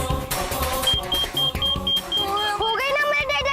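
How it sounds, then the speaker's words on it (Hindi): An alarm on a box that is heating up gives a steady run of short, evenly spaced high beeps. They sit under loud music and background sound, and people talk nearby. "तो इसका अलार्म भी बज रहा है"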